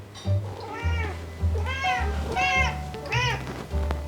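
Gracie the cat meows repeatedly in a kitchen, giving four or five drawn-out, clear meows at close range over about four seconds.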